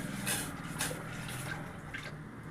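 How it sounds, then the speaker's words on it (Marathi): Water pours into a small pot in a home kitchen while a wheat porridge is being prepared, a faint, steady trickle with a few soft splashes and drips over a quiet background. "मी याच्यात ओतून घेते छोट्या भांड्यात, ओतायला बरं जाईल."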